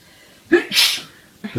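One loud, close sneeze bursts out sharply in a quiet room where someone paints hydrangeas in watercolor, followed by a brief voice at the end.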